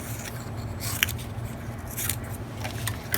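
Scissors snip strips of paper for a craft pattern, with faint, brief cutting and rustling sounds close by over a low background hum.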